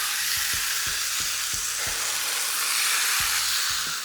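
Beef slices fry in a small amount of oil, giving a loud, steady hissing sizzle with occasional light clicks from stirring or turning the meat.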